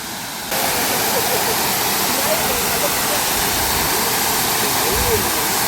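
A waterfall in the Kolli Hills throws up spray, making a dense, steady rushing roar up close that fills the whole stretch without a break.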